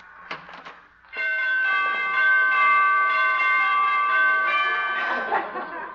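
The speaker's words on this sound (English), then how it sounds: "She must have borrowed those door chimes from Carmen Miranda." Door chimes ring out after a couple of brief knocks, sustained bright bell tones holding steady and fading slowly, loud and close with no talking over them.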